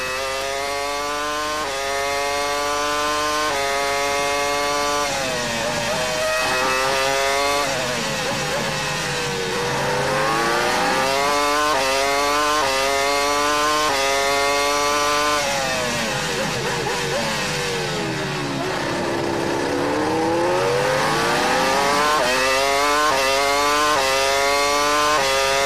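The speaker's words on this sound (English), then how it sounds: "We're still riding with Kimi Räikkönen." Onboard Formula 1 car engine at Suzuka practice, a loud high-revving scream rising and falling repeatedly through gear changes and backing off, continuous and close throughout with no talk.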